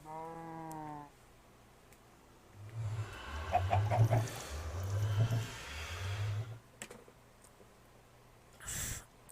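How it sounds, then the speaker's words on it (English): Blocky chicken in the Minecraft video game clucking in a short run of low, rounded calls in the middle, with a brief higher squawk near the start and a faint click at the end, no talk over it. "Hello, chicken. And I'll be back, Mr. Chicken."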